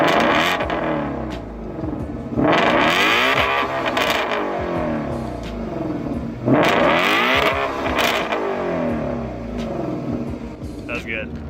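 A 2018 Ford Mustang Shelby GT350 exhaust revs in two big sweeping rises and falls, loud and close, each climbing to a snarl and dropping back, with a voice talking over it.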